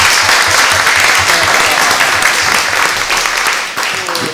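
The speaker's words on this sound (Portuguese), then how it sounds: "Parabéns à conselheira. Salva de palmas." Sustained round of applause from a council session audience honouring a councillor, loud and dense clapping throughout that tapers slightly near the end.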